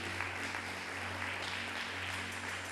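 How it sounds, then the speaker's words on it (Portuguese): Church congregation clapping loudly and steadily in praise, a dense continuous wash of applause with a low hum underneath and no talk. "E as suas palmas, aquelas palmas bem fortes mesmo"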